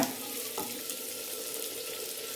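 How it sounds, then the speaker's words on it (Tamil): Chopped tomatoes fry and are stirred in a pan for a Tamil-style brinjal and potato chutney, a steady soft sizzle with occasional light scrapes, fairly quiet and with no voices. "தக்காளியை உள்ள போட்டு நல்லா பரட்டி விடுங்க"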